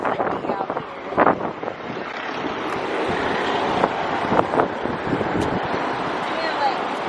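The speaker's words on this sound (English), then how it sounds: "Oh, it's a little windy out here." Gusty wind buffets the microphone outdoors at a protest, a rough, rumbling roar that rises and falls throughout while people talk over it.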